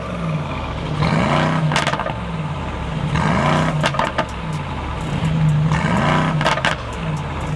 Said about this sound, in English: Let me rev this thing so you guys can hear it.